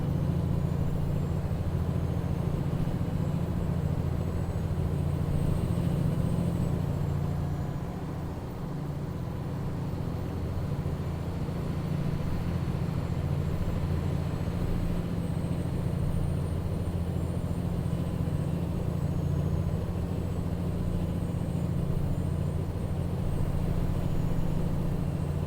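Truck engine in American Truck Simulator, a steady low droning hum that holds at an even level for about twenty-five seconds, with a slight dip midway and no voices.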